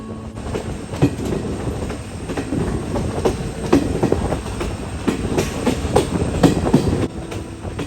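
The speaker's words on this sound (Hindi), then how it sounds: "अब हमारी ट्रेन ब्रगैंसा घाट की चढ़ाई कर रही है।" A train with banker locomotives pushing from behind climbs the steep Braganza Ghat between Kulem and Castle Rock in Goa, a continuous loud rumble with rhythmic clickety-clack of wheels on the rails and occasional squeals.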